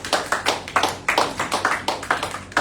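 Audience at a public sector reform event at Youyi Building clapping together: dense, steady, fairly loud applause from a room of people, with no talk over it.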